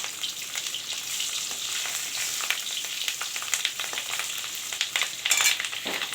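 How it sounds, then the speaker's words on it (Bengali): Rohu fish with roe frying in a pan, a steady close sizzle and crackle throughout with occasional sharper spatters and stirring noises, no talking. "আমি রান্না করছি, মাছ রান্না করছি। মাছটা হচ্ছে রুই মাছ"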